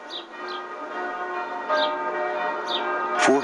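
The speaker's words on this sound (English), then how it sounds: "the bells ring out at the Church of the Holy Sepulchre" Bells ring out from the Church of the Holy Sepulchre in Jerusalem, resonant tolls that strike every second or so and hum between strikes, with birds chirping faintly in the background.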